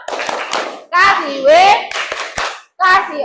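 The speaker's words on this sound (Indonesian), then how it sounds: "Beri tepuk tangan untuk kelompok 3" Children clapping in unison for a classroom group, a few sharp rhythmic claps mixed with excited children's voices and shouting, close and lively, with short pauses between bursts.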